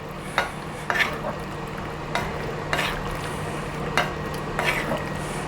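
A spoon stirs Swiss-style mac and cheese with parmesan, scraping the pot in about seven distinct strokes at an unhurried pace against a faint background hum, with no talking.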